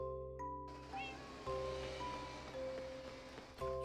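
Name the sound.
cat meowing in Minecraft, a video game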